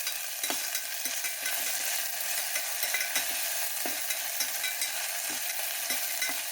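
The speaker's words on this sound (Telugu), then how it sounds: "ఉల్లిపాయలు ఎర్రగా వేగినాయండి." Onions and whole garam masala frying in a pan give off a bright, constant sizzle, with faint regular taps of a spoon stirring through it, nobody talking.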